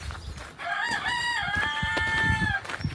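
A rooster crows once in a long, wavering call that lasts about two seconds, heard from nearby on a rural hiking trail between Steg, Hörnli and Fischenthal in Switzerland, with faint outdoor background noise around it and no talking.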